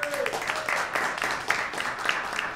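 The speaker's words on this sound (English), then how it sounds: "Let's give her a big round of applause." Applause from a seated audience at a Manhattan investment forum and reception, moderate clapping that is fairly thin and uneven, with a few sharper claps standing out over a low background hum.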